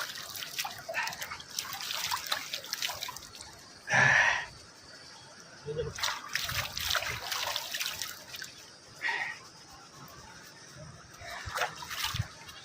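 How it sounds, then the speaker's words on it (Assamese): Cold water splashed onto a face by hand in a warm hilly spot, several short splashing bursts and trickles separated by pauses, close by with quiet outdoor background. "অকণ মুখখনে ধুই লওঁ"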